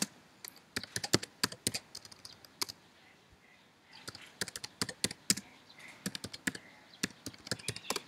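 Quick bursts of keystrokes on a computer keyboard entering a terminal command, close and fairly quiet, with short pauses between the runs of clicking taps.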